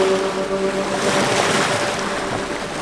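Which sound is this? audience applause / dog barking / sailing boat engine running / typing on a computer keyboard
sailing boat engine running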